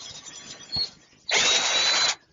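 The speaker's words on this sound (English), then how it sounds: "Now we just unscrew the jig, turn it over, and see how we did." A power drill unscrews a woodworking taper jig for flagpole pieces. A brief whir is followed by a louder, sustained motor burst lasting under a second, close and with no voices.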